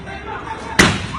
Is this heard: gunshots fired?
yes